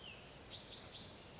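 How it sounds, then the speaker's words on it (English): Birds chirp outdoors on a pleasant day, a few faint, high, thin calls repeating in a loose rhythm over quiet background hiss, some distance away. "You should be able to hear birdsong"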